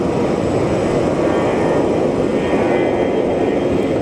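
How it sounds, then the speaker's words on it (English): A Southwest airliner on its takeoff roll from runway 7 left at Phoenix Sky Harbor, a loud, steady, broadband engine roar sustained throughout with no talk. "our Southwest flight is on its takeoff roll"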